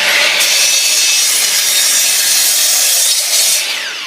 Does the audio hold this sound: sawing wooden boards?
yes